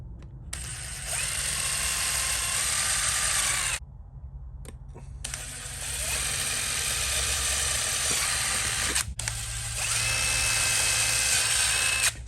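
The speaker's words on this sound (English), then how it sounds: "we'll start with a rather diminutive drill bit and hope for the best here" A small drill bit bores into a gauge mounting panel during an LS-swapped van build, the drill whining loudly and steadily in three long bursts separated by brief pauses, close up with no talk.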